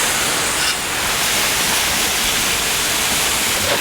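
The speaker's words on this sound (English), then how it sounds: "And we'll rinse that off." Water sprays steadily over a part from a Toro lawn mower that will not start, a loud, close, even hiss of rinsing running unbroken for a few seconds with no talk.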